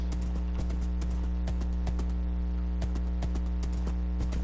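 Horse hooves clip-clop in the Minecraft video game, a steady run of sharp, evenly spaced clops over a constant low hum.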